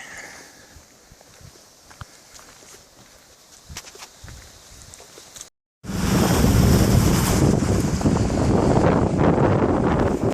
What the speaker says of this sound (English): Here comes the boat.